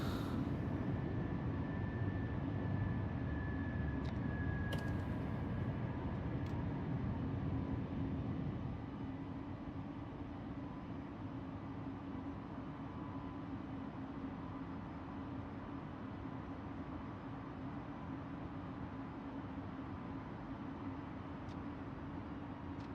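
An airliner climbing after takeoff in Microsoft Flight Simulator, a steady broadband engine roar with a faint high whine that settles slightly lower partway through. It is fairly quiet and continuous, with a couple of tiny clicks.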